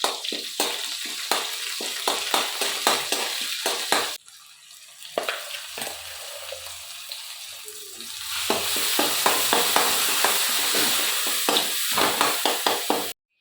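Crushed coconut and curry leaves frying in a pan, a steady close sizzle broken by repeated sharp scraping strokes of a spoon stirring, with a brief quieter pause midway before the frying swells again.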